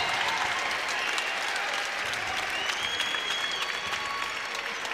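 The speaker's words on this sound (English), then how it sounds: "he gets a well-deserved hand from the home crowd" Home crowd at a college basketball game gives a senior player a warm round of applause, a broad, steady roar of clapping filling the arena throughout, with faint whistle-like tones drifting above it.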